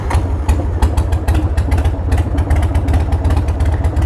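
A 1994 Harley Davidson Sportster 1200 engine idles loud and close with a lumpy, uneven throb and rapid irregular pulses throughout, with no start heard at the beginning.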